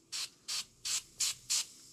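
Five short, even bursts of hissing spray from a can of Sprayway foaming glass cleaner being applied to RC car tires, evenly spaced and close to the microphone with quiet pauses between.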